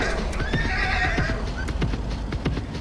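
A horse in the Top Speed 3 video game whinnies loudly over a steady clip-clop of hooves, with the neighs rising clearly above the rhythmic hoofbeats.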